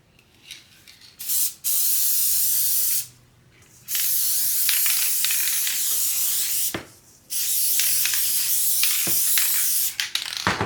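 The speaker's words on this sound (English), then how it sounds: "I'm using Elmer's spray adhesive." A can of Elmer's spray adhesive sprays in three long, steady hissing bursts separated by short pauses, close and loud.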